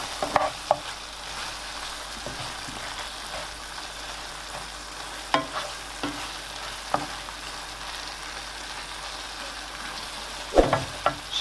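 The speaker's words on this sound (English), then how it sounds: "I'm gonna add a little bit of peppers in it" Peppers frying in a pan for egg biryani, with a steady low sizzle running throughout and a few brief stirring scrapes and clinks, the loudest near the end.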